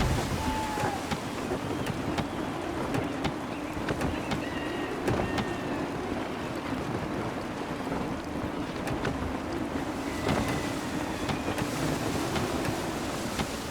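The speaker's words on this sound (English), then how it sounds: "Gusty winds can be difficult to manage." Gusty wind at sea rushes in a steady, moderate roar around a sailing ship in Assassin's Creed III, with creaks and occasional sharp knocks over the constant blowing.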